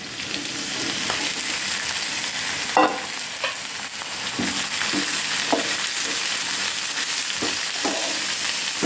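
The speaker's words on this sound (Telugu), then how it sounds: "మంచిగా ఇది కుక్ అయ్యేంత వరకు మనము చక్కగా కలుపుకోవాలి" Beans fry and sizzle steadily in a pan while a spoon stirs them, scraping knocks recurring every second or so over the constant close frying hiss, with no talking.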